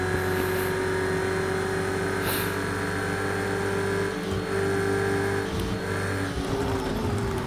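Simulated race car from Project Cars 2 drives with a steady, loud engine drone and sustained whine throughout, with small shifts in pitch and no voices.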